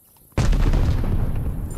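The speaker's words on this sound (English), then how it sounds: "watch out for my nade" A grenade explosion in Call of Duty during a Hardpoint match, one sudden loud boom after a moment of near silence, then a heavy rumbling roar that stays loud to the end.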